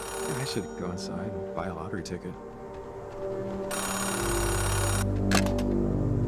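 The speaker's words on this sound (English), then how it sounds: "A payphone ringing in the wild?" A payphone rings in the game Oxenfree II, a loud electronic trill that starts partway through and keeps going after a stretch of someone talking.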